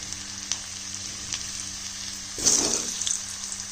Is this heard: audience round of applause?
no